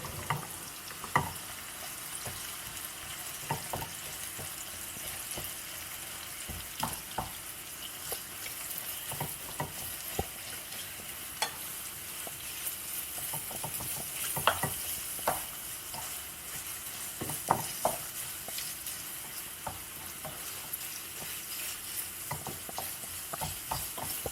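Five hundred grams of mince frying in oil in a pan, with a steady soft sizzle and intermittent scraping and stirring clatter over about twenty-four seconds, no voices.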